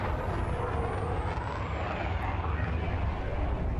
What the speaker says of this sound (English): Especially when you hit the afterburner.